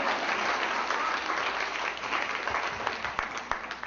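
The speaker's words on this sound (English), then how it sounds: "You can clap for me." Audience applause at an inspirational keynote talk, steady dense clapping from a crowd that holds for several seconds and thins toward the end, with a few louder claps standing out.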